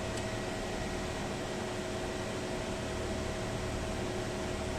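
A cooling fan running on an ASIC crypto mining rig, a loud, continuous broadband whoosh with a faint steady whine, unchanging for the whole stretch with no talking.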